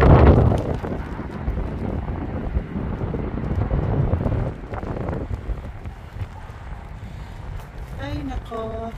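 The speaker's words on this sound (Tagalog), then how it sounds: "lumakas ang hangin." A strong wind blows beside a swelling river during rain and flooding. Loud, rushing gusts buffet the microphone, heaviest at the start, then ease into a steady roar, with a voice briefly audible near the end.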